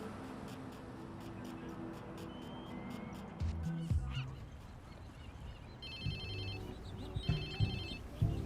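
A mobile phone rings inside the Watch Dogs 2 video game, chirping in repeated tone bursts through the second half over a busy game soundscape with low rumbling background.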